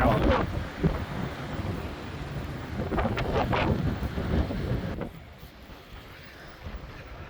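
Fierce storm wind buffets the deck of the Queen Mary 2 in the North Atlantic, roaring gusts and microphone wind noise over churning waves, loud at first and easing toward the end.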